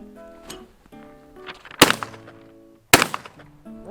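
Two sharp, loud shots from a Wards & Co. side-by-side 16 gauge shotgun, about a second apart, fired outdoors during a double. Each blast echoes and fades between them, and there is no talk.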